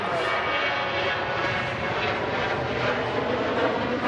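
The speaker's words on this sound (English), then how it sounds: "Ryanair NG with the retrofit winglets there" Ryanair Boeing 737 NG jet airliner at Manchester Airport, a continuous broad engine roar with a faint hiss, steady and fairly close, heard alone.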